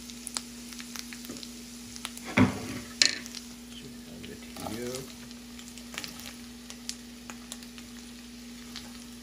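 Onions frying for homemade masala paratha give a steady sizzle throughout, with a few louder clattering bursts of stirring near the middle. No one speaks.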